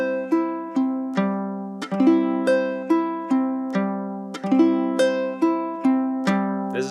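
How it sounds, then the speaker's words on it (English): A ukulele played with roll strums, each stroke rolling from the fourth string up to a ringing top string, repeating in a steady rhythm of bright plucked chords with quick decays, close and solo. "You're going to pluck the fourth string and then roll through up to that top string and really make that top string pop."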